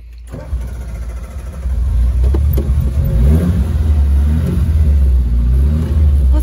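A car engine cranks, catches and revs up loudly at close range, then holds a strong, rumbling idle with repeated surges for several seconds.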